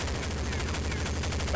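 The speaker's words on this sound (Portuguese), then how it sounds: "Acho que tu deu uns 500 tiros pra uma pessoa." Dense, continuous automatic gunfire from the Counter-Strike video game, loud and sustained with no pauses, alone without talk.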